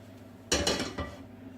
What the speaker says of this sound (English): The colander over the pan to drain off